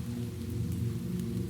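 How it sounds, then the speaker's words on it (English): Steady soft rain against a window, a continuous, even patter with a low rumbling wash underneath and no voices. "The rain at the window was a soft percussion."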